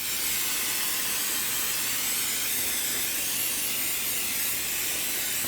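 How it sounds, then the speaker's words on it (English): A continuous close hiss of butter cooking spray coating pork chops, steady and even for several seconds with no talk. "I'm gonna spray this down with a little butter."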